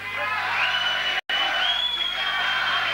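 A boxing crowd roars and cheers for Dariusz Michalczewski at a 1992 fight, a sustained dense wall of voices with yells and whoops, broken by one brief dropout.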